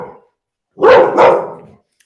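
A dog from up the street barks twice in quick succession, loud and close, after a brief quiet pause, with no other sound around it.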